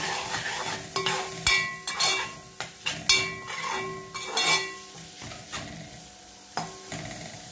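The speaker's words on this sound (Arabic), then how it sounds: "هنزل بقى بالبصلايه اهي، هنشوحها كده كويس" Onion sautéing in hot ghee in a pan, soft sizzling under repeated sharp clinks and scrapes of a utensil against the pan, close and irregular, with no voices.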